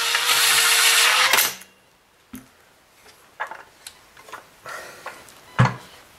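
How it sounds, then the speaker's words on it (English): A power tool whirs loudly for about a second while unscrewing screws on a Kirby Legend II vacuum, then cuts off, followed by scattered clicks, taps and handling knocks of parts. "Unscrewing here."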